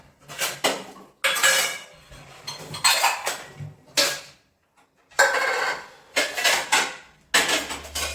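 Dishes, pots and pans clatter and clink in bursts while being washed by hand in a home kitchen, with short pauses between handling sounds; no talking.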